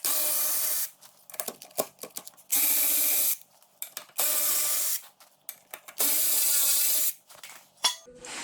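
A ratchet works the bolts off the front bumper of a Honda 300 ATV, with repeated rapid clicking bursts in loud near runs of roughly a second, separated by short pauses and a few isolated clicks.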